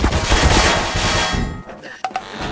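Rapid gunfire from a video game, with shots punching through a wall, comes as a loud dense burst that fades out, followed by a couple of sharp, quieter hits.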